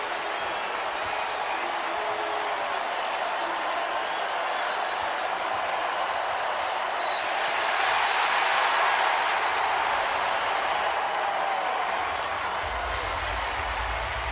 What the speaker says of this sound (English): this crowd here at Rupp Arena is applauding the effort